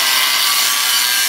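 Angle grinder cutting through the exhaust pipe of a Mercedes E63 AMG, a steady, loud, continuous grinding hiss with no breaks.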